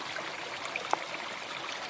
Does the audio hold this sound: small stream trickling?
yes